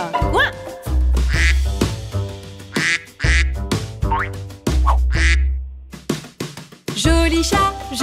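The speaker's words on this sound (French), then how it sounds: "Après que le canard ait dit coin, coin." Cartoon duck quacks in a French children's song, several loud nasal quacks popping up between sung phrases over a bouncy bass-heavy backing track.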